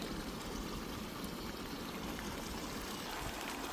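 Floodwater rushes steadily through a cut in the bund of a waterlogged paddy field after unseasonal rain, a continuous, even, faint flowing sound with no voices.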